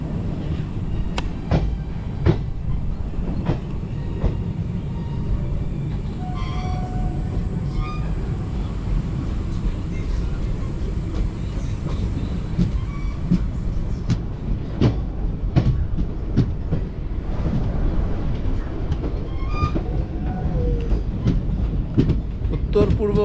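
A train on the Haldibari to Kolkata route rolls into New Jalpaiguri station, wheels clicking and clattering over rail joints in an irregular rhythm under a low steady rumble, with a voice talking over it.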